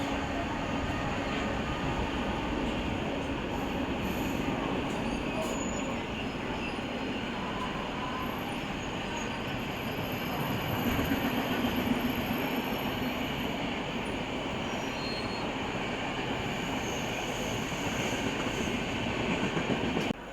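The Lalbagh Express, running from KSR Bengaluru to MGR Chennai Central, gives a continuous rolling rumble of wheels and carriages, with faint rhythmic clatter and occasional high squeals, steady and unbroken for the whole stretch.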